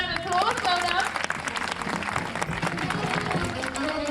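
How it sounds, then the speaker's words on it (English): Audience applause at a Pleasurewood Hills theme park animal show, a steady patter of clapping heard under voices and background music throughout. "Give him a round of applause."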